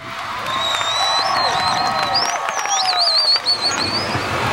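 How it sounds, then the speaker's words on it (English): An outdoor crowd at the Indiana Beach water ski show cheers and claps, with loud whistles repeatedly cutting through a steady, fairly close roar of applause. "we gotta get one more roaring round of applause for Stephen LeBou today"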